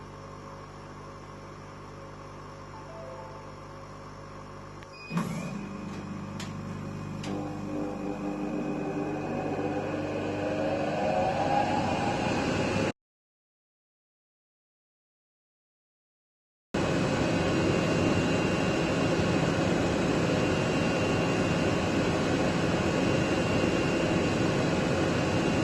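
A machine cuts a seal blank for a vacuum fixture plate, a steady mechanical hum and whine that rises sharply after a short click and runs continuously, broken by a brief silent gap before resuming with a broader, louder whirr.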